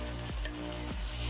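Ginger-garlic paste fries in hot oil with browned onions, giving a dense continuous sizzle under a steady electrical hum, with two faint stirring scrapes and no talk.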